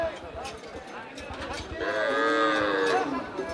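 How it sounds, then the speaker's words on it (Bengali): Cattle moo loudly and drawn-out nearby, one long low call rising and falling, over a busy background of scattered voices and bustle at the weekly Niamatpur cattle and goat market in Kishoreganj. "অনেক অনেক গরু উঠছে"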